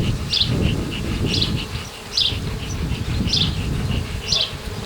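Honeybees buzzing steadily at an Alpine hive in a dense drone, with brief higher chirps recurring about once a second over the hum.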